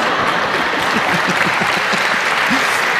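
Steady audience applause at a live comedy stage show, dense and continuous clapping filling the room for a few seconds, with no talk over it.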